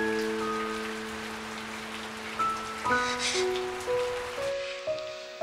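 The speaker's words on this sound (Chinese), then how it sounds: "窗外落雨声" Rain falls steadily outside a window at night, a soft continuous patter beneath sustained musical tones.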